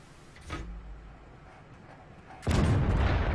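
A cannon shot from an ELC AMX light tank in World of Tanks bursts in loud and sudden near the end, a single heavy boom that holds over the game's steady background hum.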